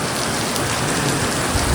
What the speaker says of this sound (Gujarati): અત્યારે વરસાદ ફૂલ ચાલુ છે.